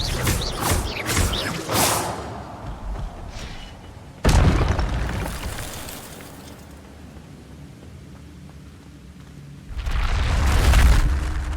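Spell blasts in Hogwarts Legacy, a cluster of crackling bursts at the start, a loud sudden boom followed by a decaying rumble, then another heavy blast building near the end.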